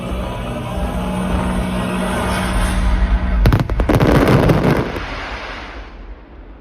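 Fireworks display at Alton Towers: a loud, steady rumble of distant bursts and crackle with wind buffeting the microphone, swelling into a dense barrage of sharp cracks before fading away.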